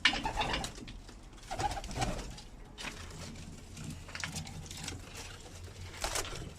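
Pet pigeons of the Arafel Slafer breed cooing in their loft, soft repeated coos close by with light wing flutters and shuffling, no one talking.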